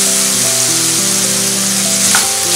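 Green peas fry with crushed black pepper as they are stirred, giving a steady, close sizzle that runs without a break beneath melodic background music.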